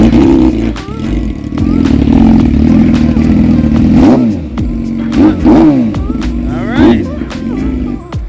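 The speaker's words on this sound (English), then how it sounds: "fire this bad boy up. Let's hear it." A Yamaha motorcycle engine runs loud and close, holding a rough, throbbing idle that is broken by a few short revs rising and falling.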